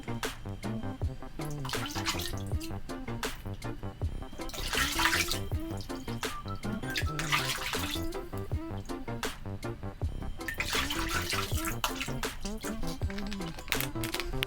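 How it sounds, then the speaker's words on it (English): Bathtub filling with water from the tap, ready for cleaning scuba gear; a steady running and splashing stream continues for about fifteen seconds, with some faint clicks and knocks over it. "So I fill the tub first and then I pour the solution in"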